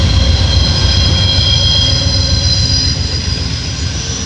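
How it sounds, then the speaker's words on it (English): A P40DC locomotive heads a three-engine California Zephyr consist. It gives a steady, loud diesel rumble with broadband rail noise and faint high whine, continuous throughout with no talk. "Got the B40 DC on California Zephyr."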